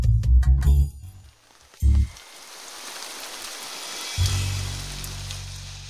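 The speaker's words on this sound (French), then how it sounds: "Quelle pluie battante." Heavy rain pours steadily as a broadband hiss, preceded by a few loud low thumps and bursts of other noise at the start, with a low rumble returning toward the end.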